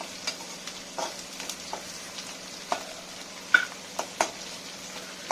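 Red chillies sautéing in a pan over a green chilli and garlic paste for mustard greens, a low steady sizzle broken by repeated clinks and scrapes of a spoon stirring.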